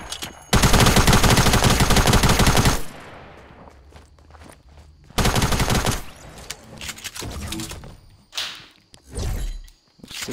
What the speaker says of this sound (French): C'est l'ancien pistolet mitrailleur en tout cas.